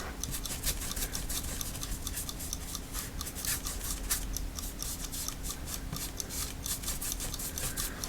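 A paintbrush scrubs acrylic base coat across a canvas in quick, repeated bristly strokes, close and soft, with a faint steady hum in the background.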